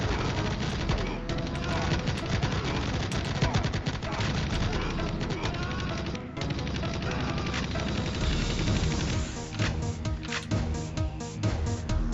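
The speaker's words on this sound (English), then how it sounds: "you can dodge these bullets if you just strafe them" Dense, rapid automatic gunfire fills a shooter video game level, continuous bursts and overlapping shots with a player chatting over it, loud and unbroken throughout.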